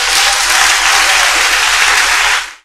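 A church congregation applauds loudly and continuously, a dense roar of clapping that cuts off abruptly near the end.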